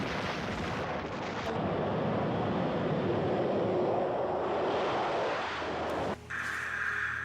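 A sustained artillery barrage in the Lomba river battle, with dense overlapping blasts forming a loud continuous rumble that cuts off abruptly near the end, leaving a quieter mechanical tone.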